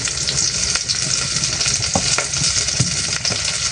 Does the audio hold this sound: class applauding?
no